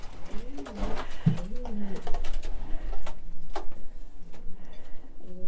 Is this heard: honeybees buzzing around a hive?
no